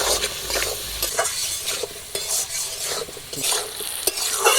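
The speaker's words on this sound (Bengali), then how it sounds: "আলু আর কচগুলোটা ভালো করে একদম ভাজা করে দেবো" Potatoes and squash, seasoned with turmeric and salt, fry in a pan with a steady close sizzle, broken by repeated stirring scrapes and clinks of a spatula over about four and a half seconds.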